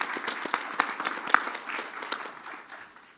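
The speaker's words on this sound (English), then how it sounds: "can we give them all a round of applause for being here this evening?" An audience at an evening community forum on fentanyl gives a short round of applause, scattered claps building briefly then thinning out over a few seconds.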